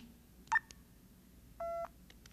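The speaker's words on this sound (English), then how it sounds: "one low pitch beep" A single low-pitched beep from an iBill talking banknote identifier, signalling a one-dollar bill in tone mode, sounds as a short steady tone over faint background hiss, preceded by a brief separate blip.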